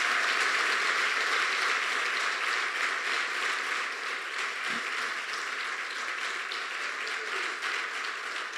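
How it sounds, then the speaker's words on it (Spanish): A church congregation applauds together, a dense, even wash of many hands clapping at a steady level throughout with no clear voices above it. "¿Por qué no le damos un fuerte aplauso al Señor por ser tan bueno con nosotros?"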